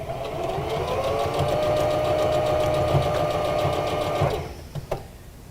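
A sewing machine stitches an Olson fabric face mask pouch, running in a loud, steady, rapid whir for about four seconds before stopping, followed by a few faint clicks and handling sounds.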